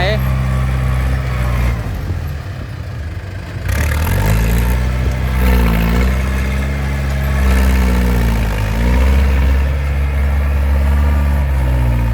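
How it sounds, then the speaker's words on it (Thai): A tractor engine runs on a muddy, slippery track, a loud, deep, rumbling drone that rises and falls in pitch as it works, with a brief dip partway through and people talking over it. "ขับรถไถ"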